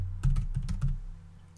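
Keys tap on a computer keyboard while text is entered in Autodesk Revit, a quick burst of five or six close, soft keystrokes over a low steady hum, then quiet.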